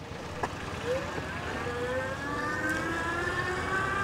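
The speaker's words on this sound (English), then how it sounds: "Now I'm just gonna use the twist throttle." A ONEBOT S2 Mini electric bike motor accelerating on its twist throttle, a rising whine climbing steadily in pitch over a constant road and wind rumble, moderately loud and continuous.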